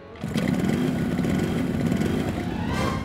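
A cartoon motorbike engine from Motu Patlu kicks in after a brief moment and holds a loud, steady buzzing drone with no one speaking.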